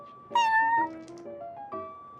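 Prince, a cat in a video game, gives a few clear meows at close range: one long rising-and-falling call, then shorter ones, with a quick chirp at the end.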